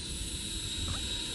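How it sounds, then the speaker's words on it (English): A Freewing Venom 90mm electric ducted fan RC jet flies by at a distance, giving a steady whining hum over soft wind rumble, fairly faint and unbroken. "Guys, awesome flying jet."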